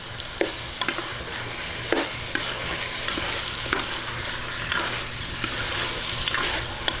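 Pork sautéing in a hot pan for Korean-style kimchi sinigang, with steady loud sizzling and frying crackle broken by repeated scraping stirs of a utensil against the pan.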